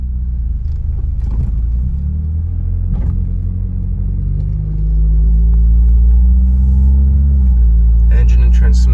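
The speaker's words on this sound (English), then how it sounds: "Engine and transmission shift smoothly." Inside a 1988 Honda Accord LX on a test drive, a low engine rumble builds steadily as the car accelerates, with gear shifts changing the pitch of the drone.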